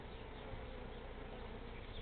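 Honey bees drone in a steady, dense buzz from an open hive that has queen cups drawn out for swarming during an inspection, close and continuous with no talk.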